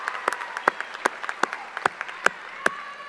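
A high school graduation audience gives scattered applause for veterans: separate sharp claps ring out at uneven intervals against a quiet background.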